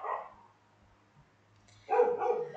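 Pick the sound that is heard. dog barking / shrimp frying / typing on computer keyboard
dog barking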